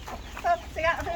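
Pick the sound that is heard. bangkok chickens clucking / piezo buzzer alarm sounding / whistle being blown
bangkok chickens clucking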